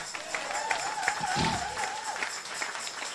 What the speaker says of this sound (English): I'm going to hold that moment for 30 seconds so 8 of y'all clap.